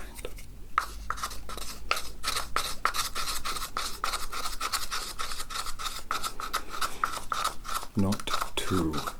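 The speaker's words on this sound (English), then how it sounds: "grind it into a fine powder. Put it in the mortar pestle" A pestle grinds an ingredient into fine powder in a mortar, making dense, rapid scraping and rubbing strokes up close, with a short burst of heavier grinding near the end.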